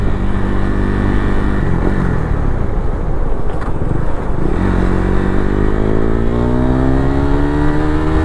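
Motorcycle riding along a road after a 53 km ride, its engine droning loudly and continuously with rising and falling revs as gears shift, steady wind and road rumble throughout.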